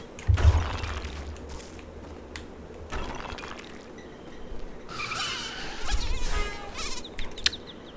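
A mosquito from the video game Rayman Origins buzzes loudly and close, its high whining drone rising and falling in waves, with short splashy effects mixed in.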